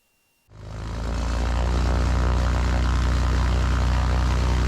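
A propeller airplane engine throttles up for a takeoff run, going from silence to a loud, steady droning roar that swells within a second and holds strong, heard close from inside the aircraft with no speech.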